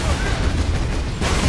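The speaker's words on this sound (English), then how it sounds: "That's one of their las cannons!" Las cannon fire in the Warhammer 40,000: Space Marine video game, a dense burst of booming, crackling blasts that holds steady and loud for about a second before a brief dip and a renewed surge.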